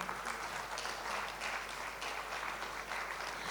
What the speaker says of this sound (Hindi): सर के लिए एक बार जोरदार तालियां हो जाएं।